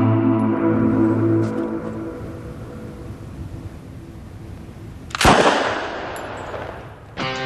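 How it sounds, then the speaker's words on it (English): A Thompson submachine gun fires a .45 caliber round at a carcass, giving one sharp loud crack that rings off, following a fading resonant hum, with no talking. "Maybe what they need is something with a little more power. Like, say, a Thompson submachine gun."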